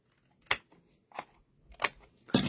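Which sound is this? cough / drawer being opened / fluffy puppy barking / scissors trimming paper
scissors trimming paper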